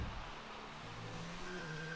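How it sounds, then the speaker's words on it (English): Car engine revving during a hot lap in an F1 racing video game at the Mexico circuit, a steady, fairly quiet droning engine note with pitch rising slowly and no talking. "He's revving to go."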